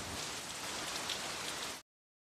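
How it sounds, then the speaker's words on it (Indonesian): Steady rain falls in a film scene, a dense, even hiss of drops on a surface that runs unbroken for almost two seconds and then cuts off abruptly. "Lalu hujan pun turun."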